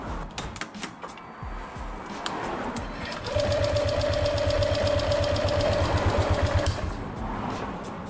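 A Honda ADV 150 scooter engine with its spark plug disconnected is cranked over by the starter, a steady fast whirring chug that runs for several seconds at close range after a few clicks and rustles.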